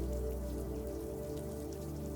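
Steady rain falls on an ancient Roman road at evening, a continuous soft patter filling the whole stretch at even loudness, with no voices.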